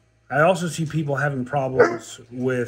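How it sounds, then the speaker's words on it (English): A dog whines indoors in the background, soft and intermittent beneath a person talking steadily close to the microphone. "sorry about the dog in the background."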